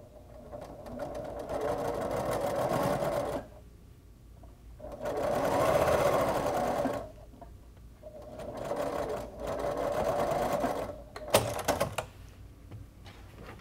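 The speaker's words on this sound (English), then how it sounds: "we're going to stitch at a 45 degree angle to the corners" A sewing machine stitches bias binding strips at a 45 degree angle across the corners, running in three rhythmic bursts separated by short pauses, close and clear.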